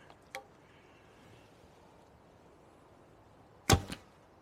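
A takedown horsebow looses a 460-grain arrow: one sharp, loud twang with a short ringing tail, preceded by a fainter snap, otherwise quiet.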